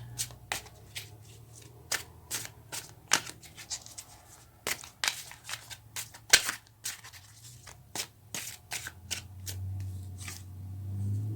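Tarot cards being shuffled and drawn, heard as sharp irregular snaps and flicks of card stock, close and crisp, separated by quiet pauses, ending in a softer continuous rustle, with no speech.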